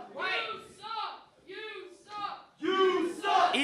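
Wrestling crowd at a title match yelling and cheering in loud, surging bursts, with a brief lull before swelling back up even louder.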